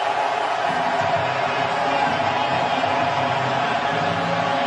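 Home football crowd in a stadium cheering a late goal by Dzeko, a steady loud roar of many voices with a commentator talking over it.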